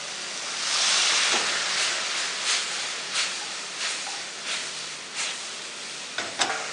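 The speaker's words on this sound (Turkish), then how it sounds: "Şimdi tavama çok az su koyacağım ve hepsinin lezzetinin birbirine geçmesini sağlayacağım." Water hits a hot pan of çökertme kebab meat, giving a loud broad sizzle that rushes up and then settles into steady hissing, broken by a few sharp spits and crackles. No one speaks.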